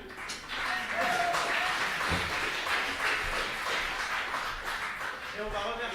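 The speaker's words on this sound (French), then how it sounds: "Alors vous pouvez l'applaudir bien fort" Dense, sustained audience applause fills a live show after a band's performance, loud and steady for several seconds with a mixed crowd wash.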